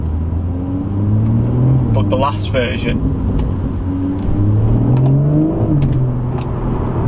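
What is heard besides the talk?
car exhaust overrun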